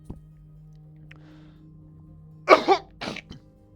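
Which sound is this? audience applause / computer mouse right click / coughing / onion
coughing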